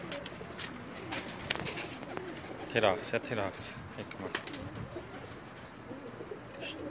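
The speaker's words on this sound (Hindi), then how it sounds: "ये शिकरे कबूतरों में से है" Shikra-cross pigeons coo softly in a low, throaty rhythm, with faint chirps and a brief flutter, while someone talks nearby.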